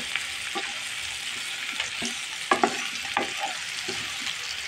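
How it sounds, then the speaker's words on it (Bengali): Chopped onions frying together with taro stolons in a pan, a steady close sizzle broken by scraping stirs and soft clatters, with no voices. "আবার কিছুক্ষণ ভেজে নেব।"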